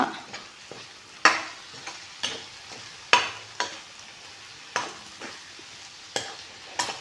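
Brinjal and prawn dry palya stirred in a pan with garam masala, a spoon scraping the metal in repeated sharp strokes about every second over a soft, steady sizzle, close and alone.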